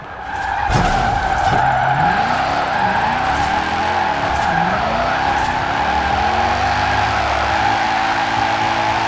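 A 2010 BMW M3 GTS drifting in the Forza Horizon 4 racing game, tires skidding and squealing continuously with wavering pitch over a steady engine drone, loud and close throughout.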